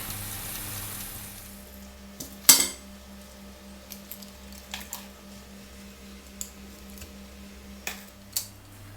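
Metal pans and utensils clink and scrape in a kitchen as a roasted chicken and potato bake comes out of the oven, scattered sharp clatters over a quiet background hum.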